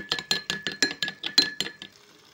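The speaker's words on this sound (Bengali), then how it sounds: "এখানে 2 চামচ মতন জল নিয়েছি, তাতে হাফ চামচ মতন কর্নফ্লাওয়ার নিয়ে গুলে নেব।" A spoon clinking rapidly against a bowl while cornflour is mixed into water, about a dozen bright, close ringing taps in quick rhythm before fading out.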